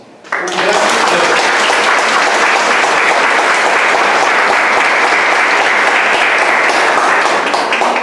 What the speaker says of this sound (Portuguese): Eu gostaria que a igreja desse uma salva de palmas.